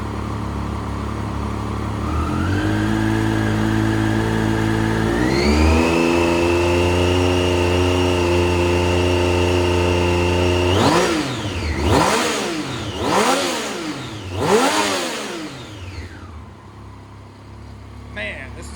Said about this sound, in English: Let's take a listen to that motor though.